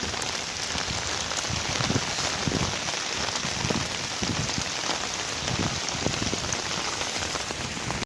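Steady rain pattering on a surface, a constant dense hiss of drops with occasional heavier splats, heard alone.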